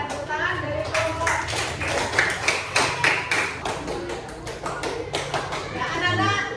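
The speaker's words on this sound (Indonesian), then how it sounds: "Dan tepuk tangan dari kelompok" A classroom group of children clapping together, with rapid overlapping hand claps and some taps throughout, mixed with children's voices.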